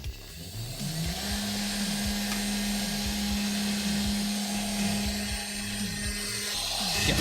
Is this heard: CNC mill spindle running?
yes